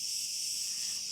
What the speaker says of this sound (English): Don't know if you can hear the crickets or whatever they are behind me